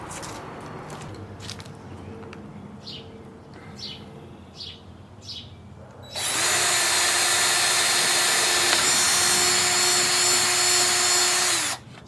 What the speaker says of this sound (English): so we're going to drill a hole that size